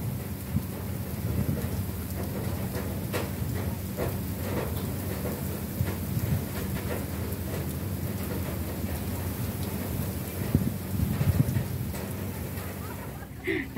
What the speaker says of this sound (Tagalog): dahil umuulan at mukhang di titigil ang ulan